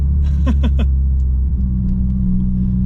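Peugeot 406 with a 2.0 turbo engine idling loud and close, a steady low rumble with a few brief throttle blips near the start, no talk.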